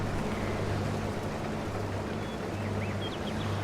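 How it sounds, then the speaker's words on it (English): Steady low engine drone of a farm vehicle in Farming Simulator 22 on the Ballyspring map, a constant rumbling hum with faint hiss above it, continuous and unchanging throughout. "I have to turn the engine noise down"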